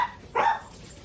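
A single short bark from a house dog, faint and somewhat distant, in a quiet kitchen.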